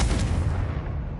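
A Confringo blasting spell explodes in Hogwarts Legacy, a loud, dense boom filling the whole short moment and fading slightly toward the end.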